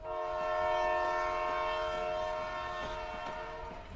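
A train runs steadily with a sustained horn-like tonal drone over rumbling wheels, loud and continuous throughout.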